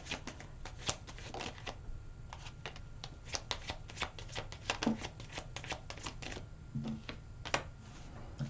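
Tarot cards are being shuffled up close, making quick irregular bursts of crisp papery riffling and flicks with short pauses between them, quiet and with no talk.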